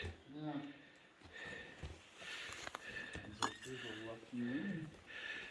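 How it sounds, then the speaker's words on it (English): A glass bottle is handled inside an old mine's underground level, giving a few light clinks and knocks that sit under nearby conversation. "Got a bottle here."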